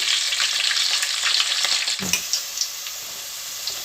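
Chopped onion pieces frying in hot oil for a small-fish curry, a steady bright sizzle filling the whole stretch with occasional stirring clinks and pops, fairly loud and with no talking.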